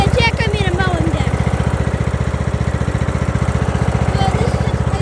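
A small garden tractor engine idles steadily with a close, loud, even low throb that runs unbroken throughout, while someone talks over it.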